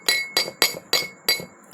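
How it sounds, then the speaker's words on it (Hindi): Clay bowls knocked together, giving five bright ringing clinks at an even rhythm, each with a short decaying tone, heard close and alone. "अभी जो मैंने प्याला ये खटकाया है"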